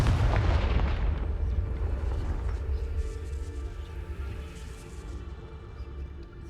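A Confringo spell blast in the Hogwarts Legacy video game, a loud booming explosion at the start that rolls into a long rumbling decay, with no talking.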